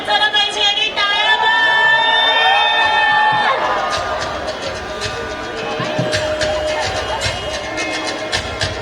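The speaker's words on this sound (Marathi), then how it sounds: "माधुरी दीक्षित मॅमचा थोडा आवाज झाला पाहिजे आणि टाळ्या" A large crowd cheers and applauds for Madhuri Dixit at a felicitation ceremony, a loud, continuous roar of voices and clapping with whistles and shouts rising over a busy background, holding steady throughout.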